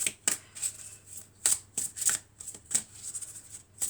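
A deck of oracle cards is shuffled up close, making a string of soft, quick papery riffles and flicks in irregular bursts against a quiet background.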